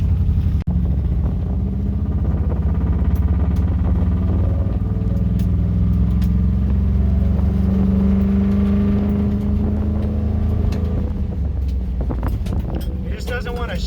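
The engine of an ECTO-1 replica build car runs loudly with a rumbling drone and wind noise, rising slightly as it strains to shift, while someone talks over it.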